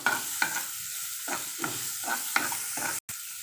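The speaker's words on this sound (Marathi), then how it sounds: "आता आपण बारीक शिजलेला कांदा घालूया आणि परतून घेऊया" Finely chopped onion sautéed in oil in a pan for pav bhaji: a steady sizzle broken by about eight regular, close scraping stir strokes, with no voices.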